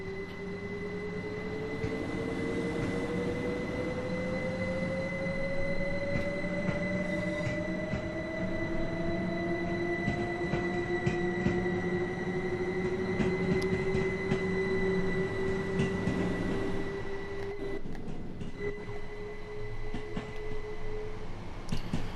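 Empty Southern Class 377/4 electric multiple unit pulling away from Brighton, traction motor whine rising steadily in pitch over a rumbling, clattering run with occasional wheel squeal, heard from the cab, continuous and fairly loud.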